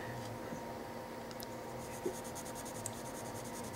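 A 2H pencil shading a drawing on paper gives a faint, steady scratching rasp, close and continuous, with a couple of tiny taps and no talking.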